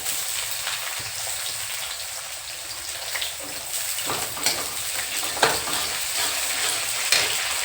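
Garlic and onion fry in a kadhai with a continuous moderate sizzle, broken by occasional scrapes and clicks from stirring or handling the pan, no speech.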